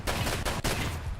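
Rapid gunfire from the Escape from Tarkov game, a dense burst of shots running almost continuously with two brief gaps, loud and close.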